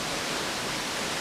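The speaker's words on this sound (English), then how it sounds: "This waterfall is called the Chai Waterfall in Bandung City, Ratnagiri Province, Cambodia." Chai Waterfall in Ratnagiri Province, Cambodia, pours as a steady, dense broadband roar that fills the whole short stretch without a break and with no voices heard.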